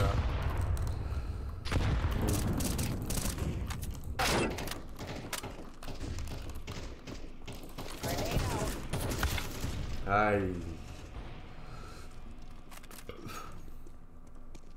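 Rapid bursts of gunfire from a Counter-Strike game, mixed with thumps and a voice talking over the action throughout.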